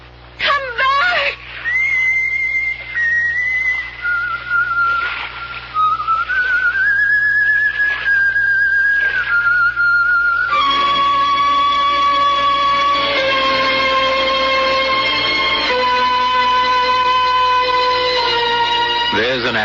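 A ghostly woman whistles in a radio drama, a wavering, sustained tune that slides between held notes and runs loud and unbroken for about twenty seconds, with other tones layered beneath it.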